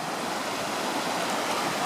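Creek water rushing steadily over big rocks in the Desolation Wilderness, a constant broadband wash with no pauses, close and fairly loud, heard alone without voices.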